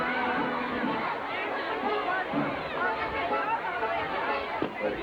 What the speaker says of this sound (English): Quite a group of people assembled here.